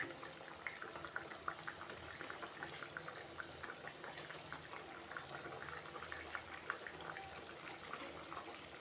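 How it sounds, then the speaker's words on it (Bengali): Pabda fish curry gravy simmers at a steady boil in a pan, a soft continuous bubbling hiss with small scattered pops, quiet and close, with no talking. "ঝোলটা ফুটে উঠেছে"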